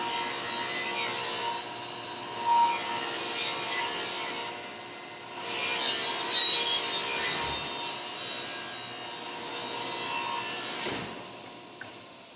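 A table saw rips a 2-inch wooden board, fed with a push stick, producing a long steady whining cut with rising and falling surges of grinding noise, fairly quiet and without talk.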